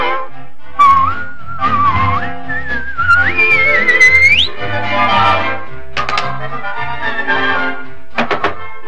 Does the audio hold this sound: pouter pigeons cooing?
no